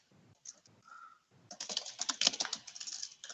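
Typing on a computer keyboard, a few soft isolated keystrokes at first, then a quick close burst of clicking keys, faint and dry.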